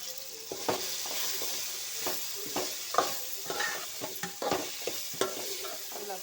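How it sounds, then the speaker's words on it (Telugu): Ginger garlic paste with turmeric powder and tomatoes fries in a pan for an okra stew, a steady close sizzle broken by repeated clicks and scrapes of a spoon stirring. "కొంచెం అల్లం వెల్లుల్లి పేస్ట్ కొద్దిసేపు వేయించుకోవాలి."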